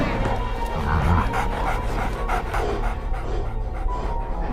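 A fighting dog in a dog-fighting arena pants heavily and continuously, with yips and muffled barks mixed in over a dense, noisy background.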